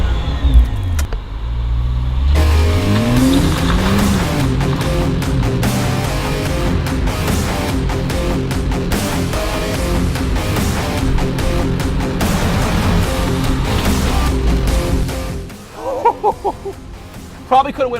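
A car engine roars as it accelerates hard, rising in pitch through gear changes, loud and close, before dropping off near the end with voices.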